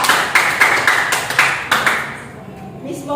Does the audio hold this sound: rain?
no